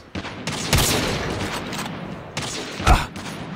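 Gunfire in a shooter video game, with bursts of rapid shots and a sharp, louder sniper-like crack near the end, all dense and close with no clear speech.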